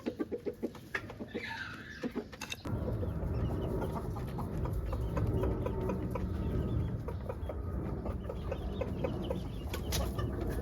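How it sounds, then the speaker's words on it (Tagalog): Chickens cluck softly nearby at a gravity-fed feeder, first with a few sparse taps, then a steady busy backdrop of clucking and pecking noises that carries on throughout. "habang tumutuka yung mga manok, mawawala yung barat"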